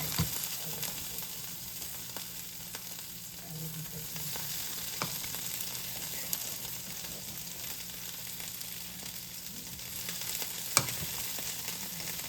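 Green beans tipped from a pot into a hot pan hiss and sizzle steadily, a dense frying crackle throughout with a few small clicks and a brief sharper clatter near the end.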